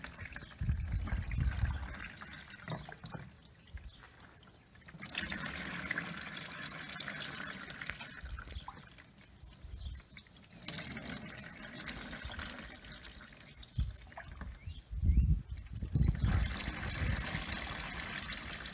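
Plain tap water poured over ice dye on cellulose fibers, a steady close splashing trickle that runs in several bursts of a few seconds each, separated by quieter pauses.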